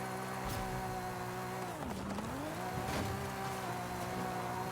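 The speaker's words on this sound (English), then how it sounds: "I love the sound of the inline 6." A Nissan R33 Skyline's original turbocharged inline-six RB engine, tuned to 900 horsepower, revs loudly, its steady drone dipping and climbing through sweeping pitch changes while idling between blips.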